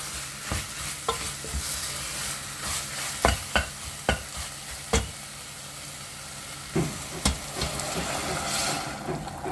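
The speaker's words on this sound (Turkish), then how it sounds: "Şimdi suyunu ekleyeceğim." Water poured into a pot of celery soup with celery leaves, stirred with a utensil: sizzling, bubbling liquid punctuated by a series of sharp clanks against the pot, close and loud without talk.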